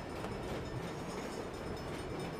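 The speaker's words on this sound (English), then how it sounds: "Hell of a time for a train." Train passing in the Saints Row video game, a steady, loud, continuous rumble of rolling rail cars with dense low-end roar and no clear horn, sustained evenly throughout.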